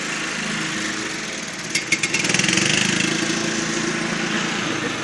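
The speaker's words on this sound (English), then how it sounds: "this mower just keeps getting louder and louder and louder because I'm pretty sure she's coming this way." A lawn mower engine drones steadily outdoors, growing slightly louder as it approaches, with a brief rattling burst partway through and no talk over it.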